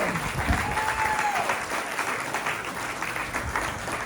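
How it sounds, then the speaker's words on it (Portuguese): A church congregation at a retreat applauds, a dense, steady wash of many hands clapping at moderate level throughout, with a brief tonal voice near the start. "Vamos aplaudir Jesus aí"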